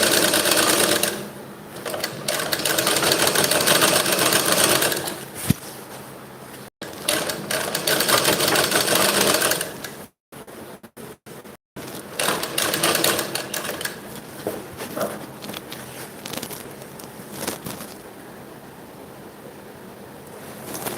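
Sewing machine stitching fine round piping onto a silky-fabric blouse, running in long steady bursts with short pauses between runs, close and loud, with no voices.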